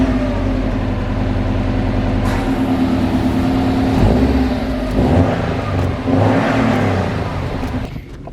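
Subaru WRX on its stock exhaust, up close, idling with a smooth hum before several sharp throttle blips and revs rising and falling in quick bursts, a thin, whirring tone rather than a deep rumble.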